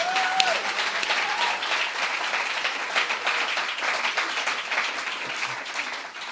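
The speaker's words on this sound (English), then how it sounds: "So I think just a round of applause just for that." A crowd at a student awards event applauds steadily for charity volunteers, dense clapping holding at an even level throughout with a brief whistle near the start.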